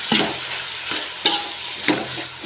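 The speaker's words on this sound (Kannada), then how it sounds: "ಟೊಮೆಟೊ ಸಾಫ್ಟ್ ಆಗಬೇಕು. ಅಲ್ಲಿ ತನಕ ಚೆನ್ನಾಗಿ ಫ್ರೈ ಮಾಡ್ಕೊಳ್ಳಿ." Tomatoes fry with salt and turmeric in a pan for veg pulao, with a steady sizzle broken by three sharp spoon scrapes as they are stirred.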